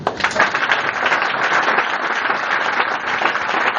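A church congregation breaks into steady applause. Dense, continuous clapping from many hands fills the room at a loud, even level throughout.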